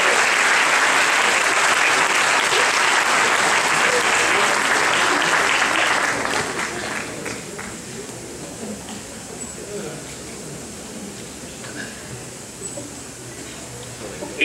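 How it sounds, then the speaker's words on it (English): Students are applauded by the audience at a high school awards ceremony: strong, steady clapping for about six seconds that then drops to a quieter, thinning patter. "Please help me applaud these students and their outstanding."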